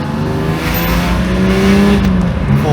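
Lexus IS200 engine revving hard, loud and close, a sustained roar with rising and falling harmonic tones as the throttle is pushed, with no talk over it.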